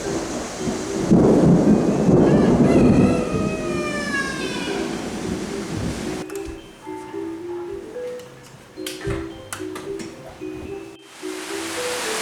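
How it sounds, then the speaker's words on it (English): Thunder rolling during a backyard thunderstorm, a long loud rumble that fades out, then quieter distant rumbles under steady rain. "we have another thunderstorm"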